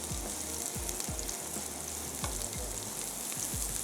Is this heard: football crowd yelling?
no